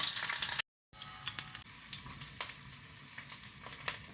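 Garlic cloves frying in hot oil in a pan for a chutney, a steady close sizzle with small crackles and spits, briefly cut to silence near the start, with no talking.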